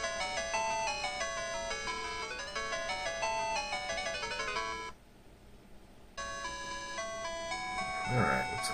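Antarctic Adventure plays on a ColecoVision emulator on an ODROID-GO handheld, a bright, steady beeping chiptune melody with a brief drop-out near the middle before the tune resumes, ending with a short rising blip.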